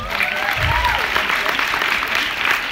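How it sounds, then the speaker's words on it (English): Audience applause for teachers at a coaching talk, a steady, fairly loud wash of clapping from a crowd with some cheering voices mixed in. "can we give them a round of applause?"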